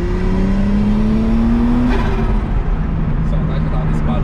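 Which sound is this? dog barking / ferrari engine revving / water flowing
ferrari engine revving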